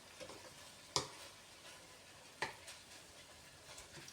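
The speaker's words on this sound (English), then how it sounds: "wait for my meat to brown." Meat browns in a pan for chilli con carne, giving a faint, steady sizzle broken by two sharp scraping clicks of stirring.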